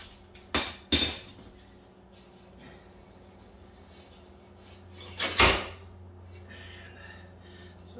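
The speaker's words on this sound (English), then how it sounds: "we'll come around and pull that axle the rest of the way out" Metal clanks and knocks twice up close, then comes a heavier clunk as the rear axle slides out of a Kawasaki 1700 Voyager motorcycle in a quiet garage.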